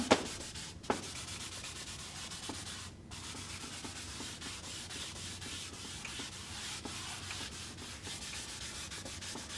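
Drawing material hatched across paper makes soft, quick scratchy rubbing strokes in a steady rhythm, faint and close, after two light taps at the start.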